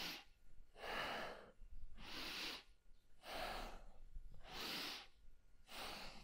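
Slow, steady breathing during a kundalini yoga exercise: six audible breath cycles, each a long inhale or exhale through the nose and mouth, close and soft, with brief pauses between.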